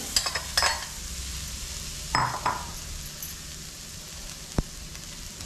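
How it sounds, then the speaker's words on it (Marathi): Grated coconut tipped into a pan for coconut barfi and stirred, giving a few soft scraping and sizzling strokes with a light clink of a utensil, close and moderately quiet with no talking. "आता आपण याच्यामध्ये खोबरं घालूया"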